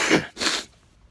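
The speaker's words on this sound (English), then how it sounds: "Nice smoker's cough." Two quick, harsh smoker's coughs in close succession, loud and near, followed by quiet.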